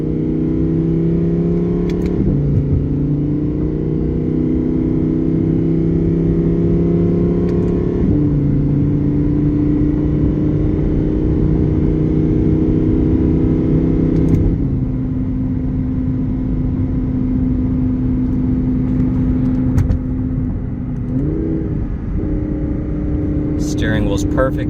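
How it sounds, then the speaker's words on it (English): A 2017 Audi R8 5.2 Plus quattro drives on a test run, its engine droning steadily from inside the cabin with pitch stepping up and down through smooth gear shifts. "we're going on a quick test drive here"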